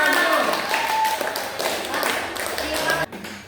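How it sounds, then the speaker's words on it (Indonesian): Primary school class applauds a winning group, scattered clapping and taps mixed with voices in a room, trailing off abruptly near the end. "Tepuk tangannya untuk kelompok 2."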